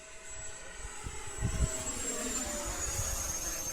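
A T-45 model aircraft flying at about three-quarter throttle, a steady engine whine with a high tone sliding slowly downward, held at an even moderate level throughout with a brief low rumble near the middle.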